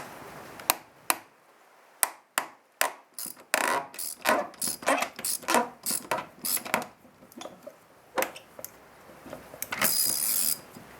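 Quick metallic ratchet clicks in short bursts, close and fairly quiet, with a few clinks of tools, as a nut is loosened on a 2009 Toyota Corolla engine during throttle body work.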